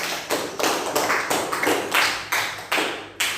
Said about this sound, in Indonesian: Tepuk tangan buat Kenzi.